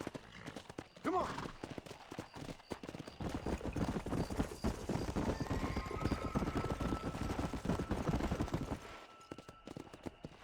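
Horse hooves clip-clopping steadily at a gallop in the Red Dead Redemption video game, continuous and fairly loud across most of the stretch, with a whinny early on and faint game sounds and voices beneath.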